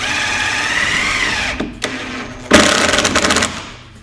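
A power driver sinks a 2.5 inch screw into a patio door frame, whining steadily, pausing, then ending in a rough, loud burst as the screw snugs home.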